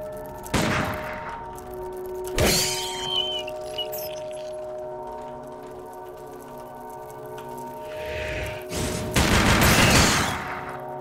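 A chaingun in the dungeon game Legend of Grimrock 2 fires a few sharp bursts of shots over a steady droning ambient hum, with no talking.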